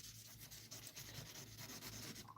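Opal stone polished on a 1000-grit surface, a steady close scratchy rubbing with rhythmic strokes as the stone keeps moving, continuous and alone without talk.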